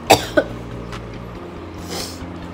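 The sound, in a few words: coughing from a cold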